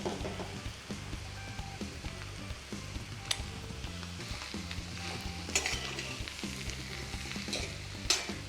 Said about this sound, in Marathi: आता हे मीठ टाकून छान असं परतून घेतली भाजी